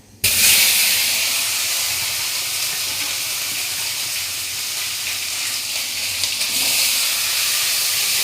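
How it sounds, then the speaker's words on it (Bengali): Cauliflower florets fry in a pan of hot oil, giving a loud, steady hiss and sizzle that starts abruptly and continues evenly throughout, with no voices. "ফুলকপিগুলো তেলে ছেড়ে দেবো।"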